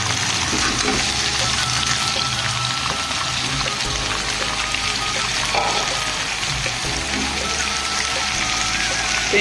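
Potatoes fry together with softened onions on a small tawa, making a dense, steady sizzle with repeated scraping and mixing strokes throughout.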